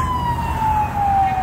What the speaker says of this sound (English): Those sirens are becoming more and more prevalent.